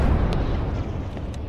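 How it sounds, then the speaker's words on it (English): A single deep, heavy boom of tank cannon fire in ArmA 3, loud and rumbling, decaying over a second with faint sharp cracks after it. "Might be taking fire from the tanks"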